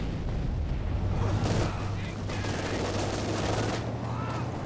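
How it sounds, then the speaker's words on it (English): Sustained battlefield gunfire from Company of Heroes 2, a dense, continuous din of machine gun bursts and shots over a low drone, loud and unbroken for several seconds. "Contact! Enemy machine gun!"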